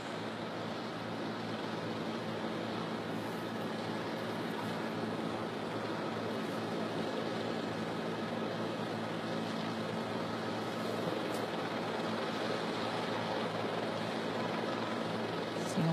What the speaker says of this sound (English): And here it comes in now, this JetBlue Flight 292 with that front nose gear pointed sideways.